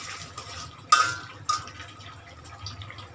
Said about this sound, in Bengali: দেখেন ধুন্দুলের তো ককবক করে কত পানি উঠছে